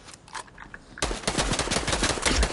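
Fortnite gunfire rattles out in rapid automatic bursts, faint and sparse at first and then a dense, loud volley of shots, with no talk.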